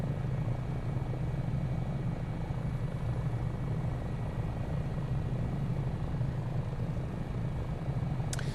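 An AS365 N2 Dauphin helicopter flies in a flight simulator game over South Wales valleys, a constant loud rotor and turbine drone with steady chopping throughout and no talking.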